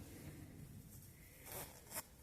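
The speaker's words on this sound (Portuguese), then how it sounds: "eu vou abrir para poder acomodar nessa marcação o trilho do zíper do outro lado" An invisible zipper being opened during sewing gives a faint, soft zipping rasp, with a couple of brief scratchy bursts near the end, heard alone in a quiet room.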